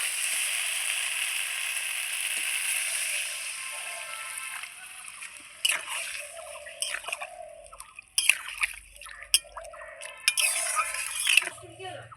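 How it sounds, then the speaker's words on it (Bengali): Water poured into a pan of potato curry with sautéed spices to make gravy, starting as a steady pour and then breaking into bubbling, sizzling and splashing bursts, with a voice talking under part of it. "দেখুন এখন আমি ঝোলের জন্য জল দিয়ে দেবো।"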